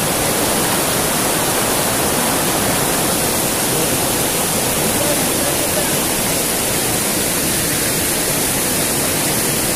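Water from a stream swollen by the first rain crashes down a small waterfall at night, giving a steady, dense rushing roar heard up close and without pause.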